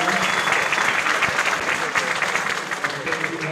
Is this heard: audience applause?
yes